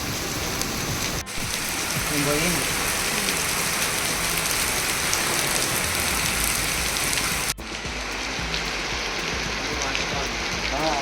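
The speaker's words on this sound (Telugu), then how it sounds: "పక్కేమో ఫుల్ వర్షం పడుతుంది." Steady, dense downpour of heavy rain, loud and close throughout, with a brief dip partway through before the roar continues.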